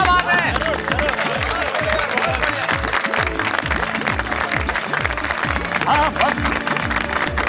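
A crowd applauding a large rangoli steadily and loudly throughout, dense continuous clapping with some chatter mixed in.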